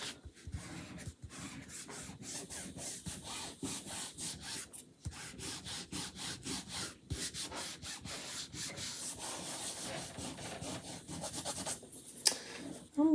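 A chalk transfer stencil is rubbed down by hand in a long series of rhythmic, scratchy strokes, fairly close and moderately quiet, with no talking.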